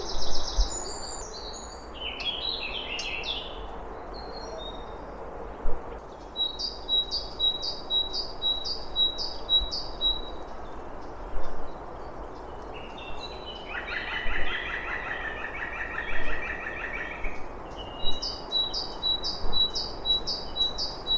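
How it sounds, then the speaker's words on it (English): Woodland birdsong near Stowmarket, Suffolk: bright, rapid trilled phrases repeat in clear bursts alongside other chirps, over a faint, steady rumble of distant traffic. "There is some distant traffic noise which is slightly annoying, but I think we can hear the bird song over that."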